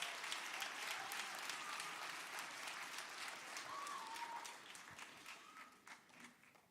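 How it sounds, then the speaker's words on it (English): Families at a charter school's fifth grade graduation give a long round of applause, faint and distant-sounding, with steady clapping that gradually softens toward the end. "please put your hands together and give your 5th grade scholars and yourselves a big round of applause"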